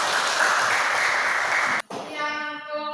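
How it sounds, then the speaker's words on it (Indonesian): Applause from a classroom audience after a group presentation, a dense, steady wash of clapping that fills the room, then cuts off abruptly, followed by a faint tonal ring. "Kita berikan tepuk tangan."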